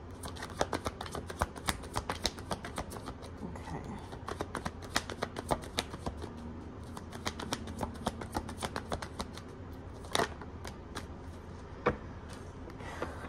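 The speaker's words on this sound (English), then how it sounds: "I'm just going to let some cards fly out" Tarot cards are shuffled by hand in a rapid, crisp flurry of riffling snaps and flicks, close and fairly quiet, with a few sharper card slaps near the end.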